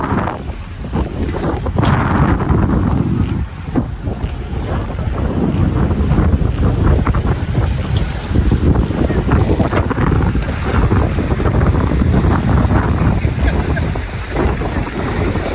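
Strong wind at a ferry terminal, loud gusty buffeting and roaring across the microphone with some water and boat noise mixed in, steady throughout.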